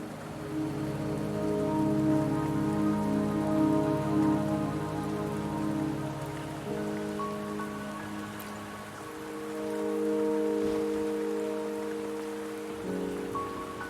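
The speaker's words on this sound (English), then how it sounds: "Don't worry. The rain won't last much longer." Steady rain falls in the video game Wuthering Waves, a continuous hiss running the whole time beneath sustained background music, with no speech.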